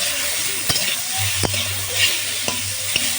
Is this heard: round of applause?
no